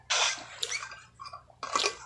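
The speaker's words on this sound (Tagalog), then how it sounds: "Uminom muna ako ng tubig bago ako kumain." Drinking water is poured at close range in a few short splashy bursts separated by quiet gaps, with faint trickles between them and no speech.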